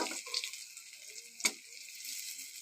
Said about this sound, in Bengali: তার জন্য লাস্টে বড় ভাজাটা করছি